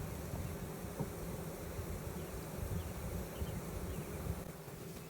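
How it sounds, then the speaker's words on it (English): Honey bees shaken off a frame of honey at a beekeeping farm make a dense, continuous buzzing hum, fairly quiet and steady with slight swells. "We have to shake the bees off so they don't end up in the new hive and start a fight."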